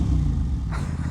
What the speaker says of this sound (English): Just listen to the revs.